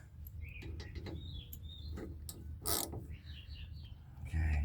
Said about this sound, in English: let's make sure I'm tightening. Nope, that's loosening. That's tightening.